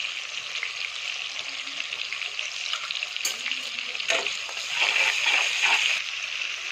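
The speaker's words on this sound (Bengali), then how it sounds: "টমেটোটাকে কষাবো" Chopped tomato sautéing with turmeric and salt in a pan, a steady close sizzle and spluttering with stirring strokes that swells louder near the end, no speech.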